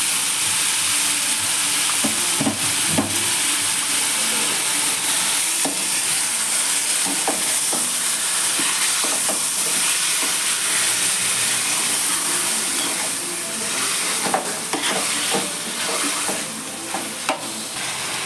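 Chicken pieces frying in a pan with ginger garlic paste for a chicken biryani, giving a steady, loud sizzle with stirring scrapes throughout and no voices.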